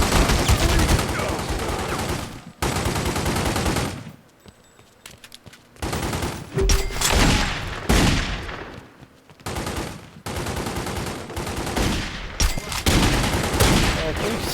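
Dense bursts of automatic gunfire from The Godfather II game come in loud, sustained volleys, with a brief lull around the middle before heavy firing resumes.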